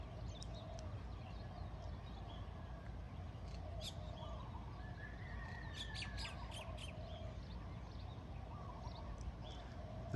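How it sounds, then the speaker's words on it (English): Tropical birds call at dawn in Kihei, South Maui, facing east toward Haleakala: scattered chirps, squawks and whistles, some fairly near, over a steady low ambient rumble with no talk. "The tropical birds that wake you up here in the morning is always a welcome to a brand new day."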